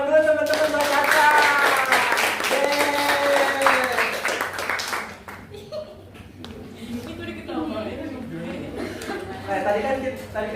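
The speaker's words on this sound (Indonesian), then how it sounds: "Ya kita kasih tepuk tangan dulu teman-teman buat Caca" Classmates clap for a student in a classroom, a brief burst of applause mixed with children's voices and chatter, followed by calmer talking.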